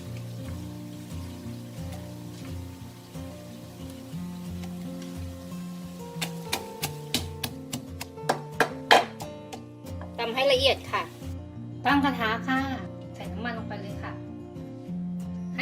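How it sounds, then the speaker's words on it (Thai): Coriander root and garlic pounded in a stone mortar with a pestle, a series of sharp irregular thuds and knocks in the second half, over steady background hum while someone talks. "ให้นำส่วนผสมค่ะ ทั้ง3ชนิดนะคะ มาตำลงกันเลยค่ะ"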